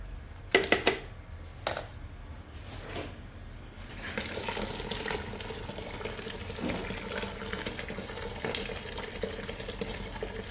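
Hot water poured into a pot of millet kunu mixture in a kitchen, a steady running-water wash after a few sharp clinks of pots and utensils, fairly close and moderately quiet with no speech.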